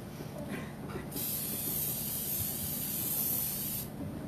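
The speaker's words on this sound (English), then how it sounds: "so I just sprayed my pie pan" A close, steady spray of cooking oil onto a pie pan hisses for a few seconds after a couple of short bursts, then cuts off abruptly.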